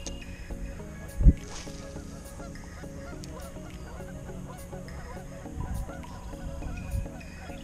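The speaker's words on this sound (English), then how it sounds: "scaring up birds. Look at them all." Geese honk and call from a distance over a continuous low boat rumble on Saginaw Bay, with one sharp nearby splash-like burst and scattered wing flutters as a flock takes off.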